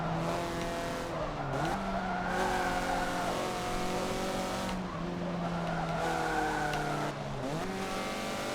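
Mazda MX-5 Cup race cars in Forza Motorsport 7 scream at high revs, dipping and climbing with gear changes and tire squeal through corners, loud and continuous with no talking.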